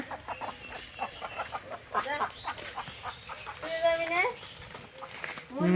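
Chickens cluck and squawk nearby while people talk over them, the bird calls rising in a burst toward the end.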